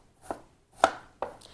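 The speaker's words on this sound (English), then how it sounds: "now I'm going to just be cutting these up into really small pieces." A knife chops peanut butter chocolate strawberry bites into small pieces on a board, three crisp, separate strikes at close range in a quiet kitchen.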